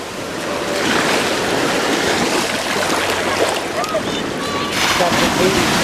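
Ocean surf and steady wind at a beach in Gulf Shores, a continuous loud wash of breaking waves with gusty microphone rumble and no breaks.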